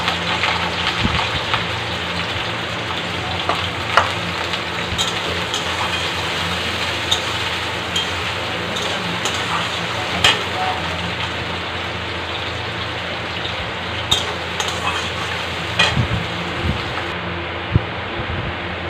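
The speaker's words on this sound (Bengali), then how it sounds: "অয়েল গরম হওয়ার পর দিয়ে দেবো কিছুটা কোচানো মানে কাট করে রাখা পেঁয়াজ" Chopped onion frying in hot oil in a kadai, a steady dense crackling sizzle with small pops, close and continuous without speech.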